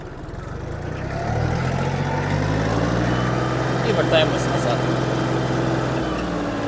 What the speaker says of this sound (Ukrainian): Прекрасно трактор розігнався, це його максимальна швидкість.